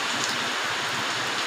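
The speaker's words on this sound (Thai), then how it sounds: "ฝนก็ตกบรรยากาศก็ดี" Steady rain falls in front of a house in a garden setting, a continuous dense hiss of drops hitting surfaces with no voices, even and unbroken throughout.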